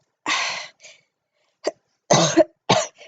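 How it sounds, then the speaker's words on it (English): Several coughs in a row, close and loud: a burst, a short pause, then two more harsh coughs near the end. "I had another cough."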